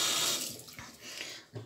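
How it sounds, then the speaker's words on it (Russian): A tap runs in a sink as water wets hands for handwashing, a close, steady hiss with small splashy changes as the hands move under the stream. "Открываем воду, смачиваем руки."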